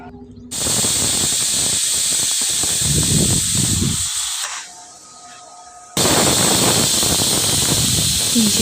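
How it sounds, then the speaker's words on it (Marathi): A pressure cooker whistle releases steam in long, loud, forceful hisses, a sustained blast that drops away briefly before another loud burst of steam resumes. "कुकरच्या 3 शिट्ट्या झाल्या की आपण खाली घेणार आहोत."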